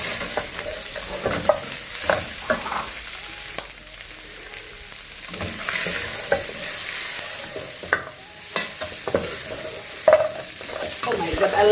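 Goat meat for mbuzi wet fry stirred in a hot pan, a steady broadband sizzle broken by repeated scraping strokes of the spoon at an uneven rhythm, close and fairly loud with no talking.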